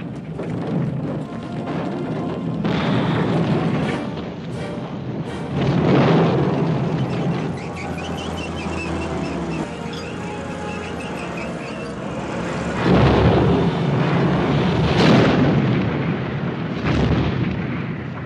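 Ammunition depot blown up in a World War II battle against Nazi German forces, heard as dense rumbling blasts and booming explosions that swell repeatedly, with heavy bursts near the start, middle and end.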